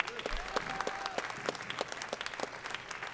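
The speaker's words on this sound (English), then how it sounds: "How about a round of applause?" Audience at a jazz education anniversary gala applauding its sponsors, a steady wash of many hands clapping at moderate distance, fairly quiet and sustained throughout.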